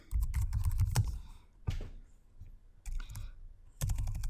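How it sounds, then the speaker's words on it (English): Bursts of typing on a computer keyboard as a tag name is entered, clustered key clicks close up with short pauses between flurries, no voices. "as I start to type in a tag name here"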